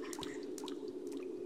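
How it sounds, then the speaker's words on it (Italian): Footsteps wading through water in the horror game Cry of Fear, heard as a soft series of wet drips and sloshes over a steady low ambient hum, with no voices. "Sento qualcuno che sta camminando in mezzo all'acqua"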